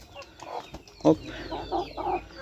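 Chinese-line Silkie bantam chickens clucking and chattering in a backyard flock, a few short calls with one louder cluck standing out, fairly close with soft background noise.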